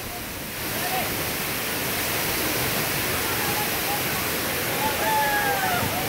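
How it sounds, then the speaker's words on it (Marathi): Baba waterfall at Kumbhavade village pouring with a loud, continuous broadband roar that swells in after a quieter first half-second, with faint distant voices over the steady rush. "कुंभवडे गावात असलेला हा धबधबा पर्यटकांना खुणावतोय"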